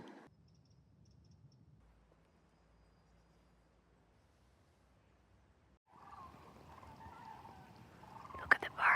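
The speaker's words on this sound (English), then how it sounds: "Look at the birds." Birds call near a spring in a forest, faint at first over a near-silent stretch, then a denser, louder chorus of calls and chirps rises in the last few seconds.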